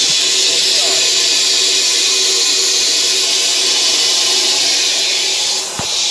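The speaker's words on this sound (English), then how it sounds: "put compressed air in there to dry it out" Compressed air blows steadily into a washed-out fuel tank on a Panhard AML 90 armoured car under restoration, a loud, continuous, close hiss that barely changes, with a brief thump near the end.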